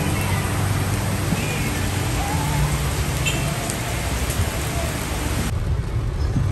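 Heavy rain pouring down outdoors, a dense continuous hiss of drops hitting surfaces with low rumbling underneath, loud and unbroken throughout.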